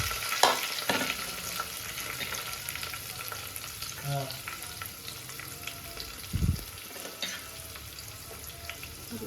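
Onions frying in a pan with ginger and garlic in a village kitchen, a steady soft sizzle with occasional stirring scrapes and clinks, fairly quiet and close, with no talking.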